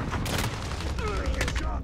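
Grenade blast and gunfire in a video game junkyard map, a dense, continuous barrage of shots with booming low rumble throughout, loud and close, with voices talking over it.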